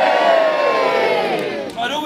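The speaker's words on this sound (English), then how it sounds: "I expect to hear a big loud cheer when I say Warwick Castle is safe." A large crowd at a Warwick Castle show cheers and roars loudly, a big sustained shout of many voices that swells and then gradually fades.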